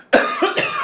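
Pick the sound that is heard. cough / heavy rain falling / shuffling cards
cough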